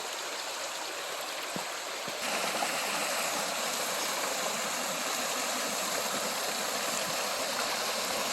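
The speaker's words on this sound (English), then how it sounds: "And yeah, there is a falls here." Small waterfall on a little creek beside Highway 630 near Mattawa, a steady rushing wash of falling water, close and continuous with no voices.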